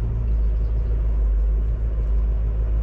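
A 1965 Ford Mustang coupe's engine idles at a stop sign, a steady, low rumble, continuous, close and even, with no voices over it.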